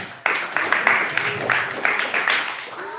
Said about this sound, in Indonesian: Tepuk tangan dulu buat Kamil